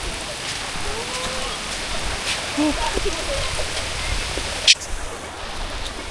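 Steady broadband hiss of storm rain falling outdoors at a beach resort in Infanta, Quezon, constant and enveloping, with a brief sharp knock near the end.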